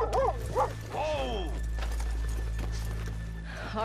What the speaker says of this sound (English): Let's leave the horses here off the main drag.